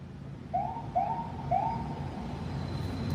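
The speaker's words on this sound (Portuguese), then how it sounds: "Até tocou a sirene aqui." A siren gives three short rising whoops in quick succession, faint and at some distance, over a low steady background hum.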